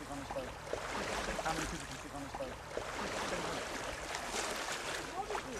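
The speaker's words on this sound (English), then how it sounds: "just the water lapping on the side of the boat" Soft, continuous water sloshing and lapping against a boat hull, close by and steady, with no talking.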